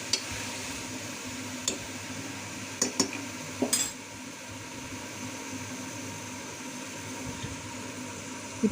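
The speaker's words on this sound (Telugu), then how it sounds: "మొత్తం బీరకాయ ముక్కలకు పట్టేలాగా కలుపుకోవాలి" Ridge gourd pieces are tossed with chili powder in a pan while metal utensils stir them. There is a steady soft sizzle throughout, and a few sharp clinks of the spoon against the pan stand out.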